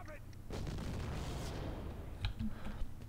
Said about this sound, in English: I am going to throw, yeah, a bomb.